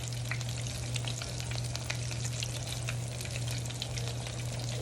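Beer-battered onion rings fry in hot oil, giving a dense, steady sizzle and crackle close up that continues unbroken throughout.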